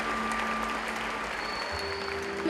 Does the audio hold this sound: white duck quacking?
no